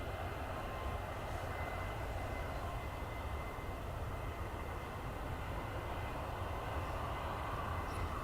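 A jet airliner taxis at Dublin Airport, a steady broad engine rumble and whine held at a constant level throughout with no voices.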